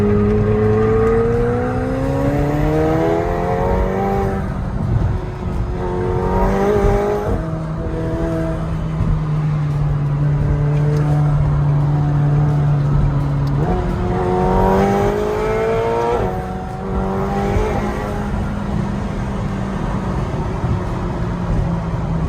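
A McLaren sports car on a test drive, its engine repeatedly revving up through rising pitched sweeps between gear changes, loud and close from inside the cabin, with a sustained drone in between.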